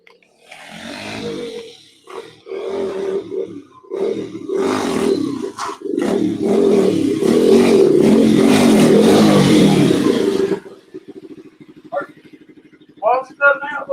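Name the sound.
motorcycle burnout with engine revving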